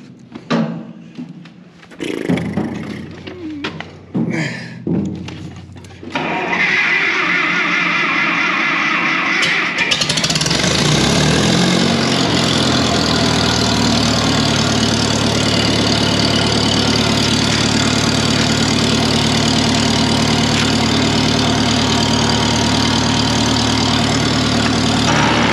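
A Case 800 LP tractor engine that sat unused for over fifteen years cranks in several separate bursts, then catches and settles into a loud, steady idle that runs close and alone for the rest of the time.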